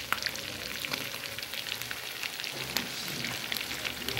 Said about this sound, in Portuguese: Fritando aqui tá ficando uma delícia, o jeito que tá fritando aqui.